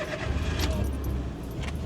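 Keys jangle up close in a car's ignition as the engine is started, a dense rattling blended with low mechanical rumble, all within a couple of seconds.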